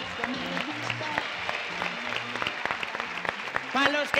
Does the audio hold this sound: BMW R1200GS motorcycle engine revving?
no